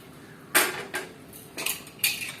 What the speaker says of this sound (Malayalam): പയറും കായും കൂടി ഒന്ന് മിക്സ് ചെയ്യുക